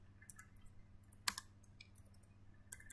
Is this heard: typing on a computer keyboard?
yes